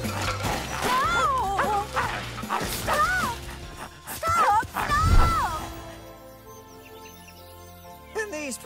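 A big cartoon puppy in Winx Club barks and yips repeatedly in rhythmic bursts with whimpering tones, loud and close, mixed with speech and background music, then fades into quieter sound.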